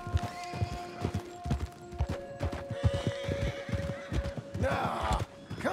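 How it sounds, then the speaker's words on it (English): Horses in Red Dead Redemption 2 trotting with a steady clip-clop of hooves, a loud neigh near the end, and a faint tonal hum in the game background. "Look at all the horses."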